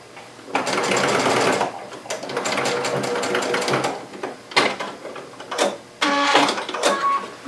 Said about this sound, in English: Now we're going to take the inner bag and we're going to sew it along the 13 3/4 inch side